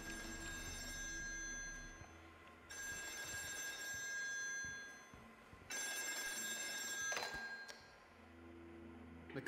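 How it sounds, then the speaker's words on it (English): An old telephone on a North Sea oil rig rings inside the horror game Still Wakes the Deep, with two long electric bell rings separated by a pause, close and clear over a low mechanical hum and a few dull knocks. "I hear a phone."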